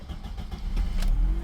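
A car engine cranks with a few quick catches, then fires and settles into a steady, close, moderately loud running rumble.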